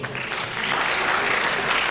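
Sustained audience applause for the Vice Chancellor at a Department of Estate Management alumni reunion, a dense steady wash of many hands clapping that grows slightly fuller after the first moments.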